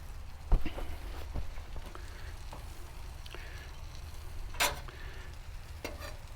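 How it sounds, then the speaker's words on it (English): A couple of pats of butter sizzle in a hot pan, a low continuous crackle broken by sharp pops and clicks, with one louder spatter burst near the middle. "I put down a couple of pats of butter. Have a little bit more heat here."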